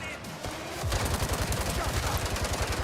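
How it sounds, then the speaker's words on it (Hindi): Rapid automatic gunfire in a Hindi-language gangster video game, bullets striking an enemy's shield in a dense, continuous burst of loud shots. "उसकी शील्ड पे गोलियां लग रही है सारी"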